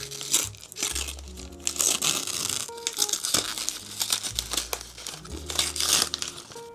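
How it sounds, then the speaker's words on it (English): Plastic or paper wrapping crinkles and tears as a paperback novel is unwrapped, a busy close rustle of crumpling with brief ripping bursts, with a tonal background sound running underneath. "Let's just unwrap it and see what it is."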